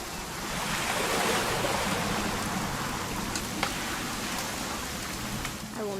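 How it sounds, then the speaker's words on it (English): Steady rain pours down in the video game What Remains of Edith Finch, a dense, even hiss of falling drops with a few sharper taps, continuous and alone. "It's gonna rain the whole weekend"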